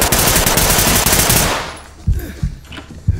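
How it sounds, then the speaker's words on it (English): Rapid automatic gunfire from the tactical police shooter Ready or Not, a loud continuous burst for over a second, then a few scattered sharp single shots. "they're shooting at us"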